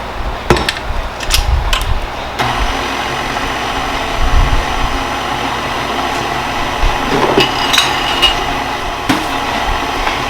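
A stand mixer kneads sticky donut dough with a steady mechanical motor hum and periodic thumping knocks as the dough slaps around the bowl.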